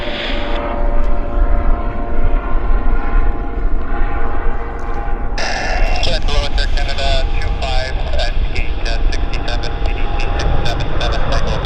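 An airliner lands at Vancouver YVR airport with a loud, steady engine roar, and a sharper, brighter whine rises midway through the run.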